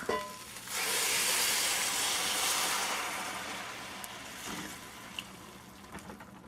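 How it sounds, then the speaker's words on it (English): Coconut milk pours into a hot pan of shrimp pelau rice and sets off a loud hissing sizzle that slowly fades to a softer bubbling, with a few faint clinks of the pan. "And now what we're going to do is add the coconut milk."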